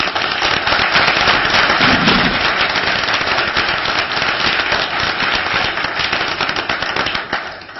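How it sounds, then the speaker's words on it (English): Dense, loud applause from the audience at a university Board of Regents meeting, a steady crackle of many hands clapping throughout with no talking over it. "maybe we should give these folks a round of applause"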